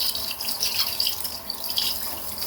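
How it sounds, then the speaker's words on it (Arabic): Tap water pours and splashes steadily while dusty air conditioner filters are washed by hand at a sink, a close continuous rushing hiss with slight surges and no voices. "وهنبتدي نغسل الفلاتر"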